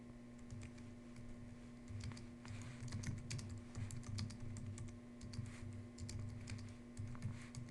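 Steady rapid typing on a computer keyboard, with clicks close and distinct over a low constant electrical hum, continuing with no pauses for nearly eight seconds.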